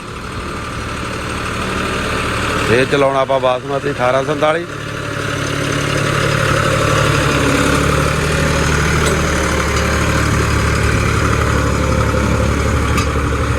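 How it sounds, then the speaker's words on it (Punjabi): A tractor engine idles with a steady low rumble throughout, in a field, while a person speaks briefly over it near the start about pulling in third low gear. "ਤੀਜੇ ਲੋ 'ਚ ਟਰੈਕਟਰ ਜ਼ੋਰ ਜਾਂ ਮਾਰ ਕੇ ਤੁਰਿਆ ਜਾਊਗਾ"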